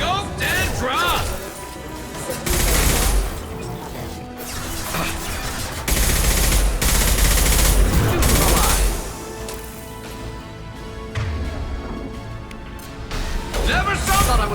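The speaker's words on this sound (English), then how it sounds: "Taking fire." Gunfire in Mass Effect 2 Legendary Edition at the Normandy crash site, loud sustained bursts and rattling volleys with crashes and booms, while voices talk over the combat.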